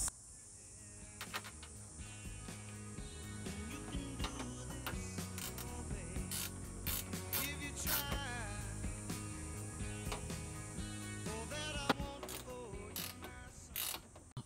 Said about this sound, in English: bending it over and bolting on these last three bolts on that side